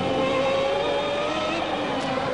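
Formula 1 cars at the 1994 Monaco Grand Prix scream past with a sustained high-pitched engine wail, one car's note rising briefly at the end.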